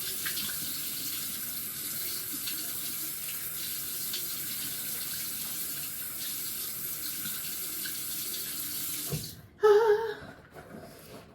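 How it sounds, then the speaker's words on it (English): Lukewarm water running steadily from a bathroom tap into a sink while a face is rinsed, a constant hiss for most of the stretch, then a brief splashing break and clunk near the end. "I'm just rinsing my face"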